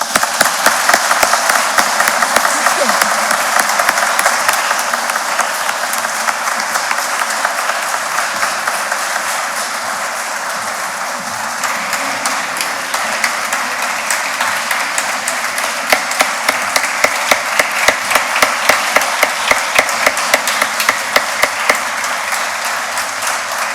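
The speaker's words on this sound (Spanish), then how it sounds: "Un aplauso." Long, full applause from an audience at a judicial ceremony for Women's Day, dense clapping that later thins into more distinct individual claps and keeps going steadily.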